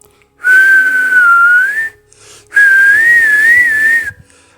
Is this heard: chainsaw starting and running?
no